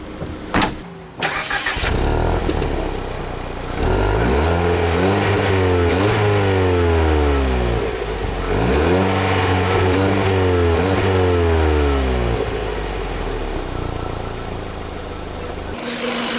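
A 2013 Ford Fiesta's 1.6-liter four-cylinder engine idles, then revs up and down repeatedly in a few long sweeps, loud and close, before settling back to idle.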